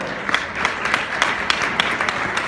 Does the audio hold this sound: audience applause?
yes